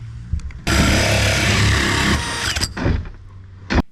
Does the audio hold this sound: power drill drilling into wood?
yes